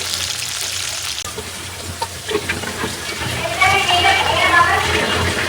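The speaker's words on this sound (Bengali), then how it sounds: "পেঁয়াজটা ভাজা ভাজা হোক" Onions fry in oil with fenugreek seeds in a loud, hissing sizzle that swells after a quieter start, with stirring clatter and indistinct voices in the background.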